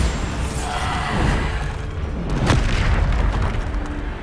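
A Bombarda spell blast in Hogwarts Legacy: a loud booming explosion with a sharp crack midway and a rumbling, crashing tail, heard alone without talk.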